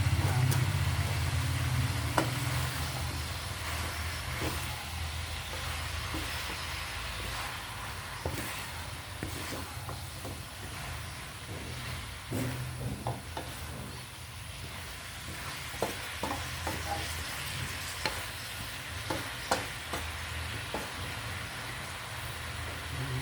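Vegetables for pakbet sautéing in a pan, a continuous low sizzle with scattered clicks and taps of stirring, fairly quiet throughout.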